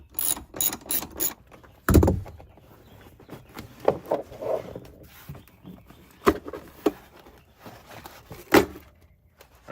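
A ratchet works a 10 mm bolt on a 2023 Dodge Charger SRT car seat, giving short bursts of close clicking and clanks separated by pauses, with occasional knocks against the seat hardware.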